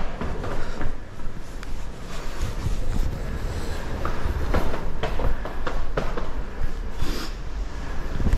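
A passenger train heads toward Manchester, heard from inside the carriage as a loud, steady rumble with repeated rail clicks and rattles of the wagon, and no one speaking.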